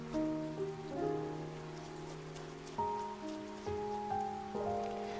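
Steady rainfall from the video game Love and Deepspace, a soft continuous patter running beneath gentle melodic game music, with no voices present.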